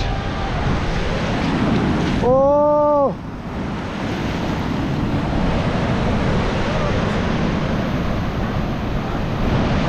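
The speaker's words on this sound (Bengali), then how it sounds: "ফাইনালি হাতে জুতো, খালি পায়ে সমুদ্রে। যাচ্ছে ভ্যাগাডর বিচ।" Surf at Vagator Beach in North Goa makes a steady, loud wash of waves mixed with wind buffeting the microphone, and a voice briefly calls out early on.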